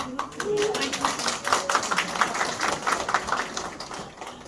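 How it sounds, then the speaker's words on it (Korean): Small church group at a revival meeting in South Korea gives a short round of scattered clapping for their newly chosen leader, a few seconds of uneven hand claps with some voices mixed in. "리더를 위해서 박수."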